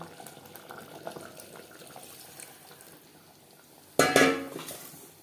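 Water poured into a pot of cooked-down mutton for biryani: faint low kitchen noise at first, then a sudden loud gushing splash that trails off over about a second.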